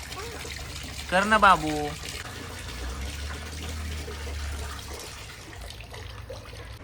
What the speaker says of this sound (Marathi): अगं नळ बंद करणं, पाणी वाया जातंय.